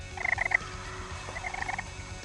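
Wild turkey longbeards gobble in South Carolina woods near a roost, two rattling gobble bursts at moderate distance over quiet background.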